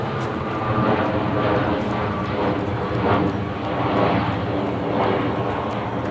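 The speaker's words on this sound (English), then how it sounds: "oh, here comes a plane" An airplane passes overhead outdoors near a parked 2020 Sprinter 4x4 adventure van, a steady, loud broadband engine roar that swells and holds for several seconds with no talking.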